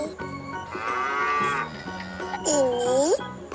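A cow moos in long, loud, close lowing calls, one drawn-out moo followed by a second shorter one, with a voice speaking over the sound.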